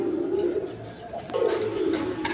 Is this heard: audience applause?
no